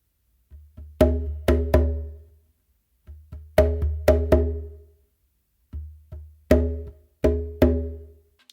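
Bomba funk pattern played on a bingba drum: three repeating phrases of soft ghost notes leading into sharp, ringing open slaps, close and clear with short decaying tones and brief pauses between phrases.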